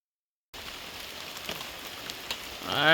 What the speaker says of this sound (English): Alright, so rain come down a bit